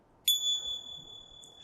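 A single small bell is struck once, a clear bright ding that rings on with a long, slowly fading sustain in a quiet room.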